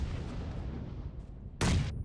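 A loud, abrupt grenade explosion in PUBG Mobile bursts through ongoing rumbling battle noise, short and broadband, standing out clearly above the din.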